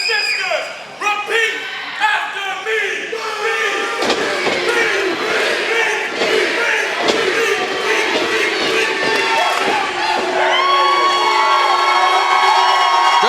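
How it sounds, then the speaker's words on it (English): A hometown crowd at a professional wrestling title match roars and cheers, with loud shouts, whoops and children yelling that swell and keep going, while a commentator talks over the noise. "Good Lord, Lockhart has got this crowd rocking."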